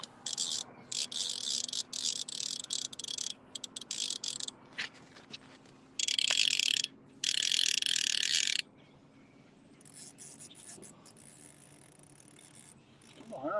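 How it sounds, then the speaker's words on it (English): A boat anchor ratchet clicks in rapid bursts of mechanical ratcheting, loud and close, broken by pauses, with faint outdoor ambience between and no talk. "All right, anchor loosened up."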